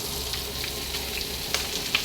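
Lunch frying in a pan gives a steady, close sizzle with a few small sharp pops scattered through it.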